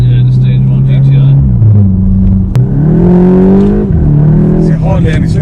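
A stage 1 tuned Mk8 VW Golf GTI accelerating hard, its engine note climbing steadily through a gear change and pulling strongly again, loud and close, with voices talking over the engine.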